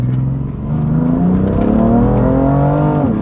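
A tuned BMW F80 M3 with a DCT gearbox revs hard on a rip, its engine note climbing in pitch over a few seconds, loud and close, with no talking.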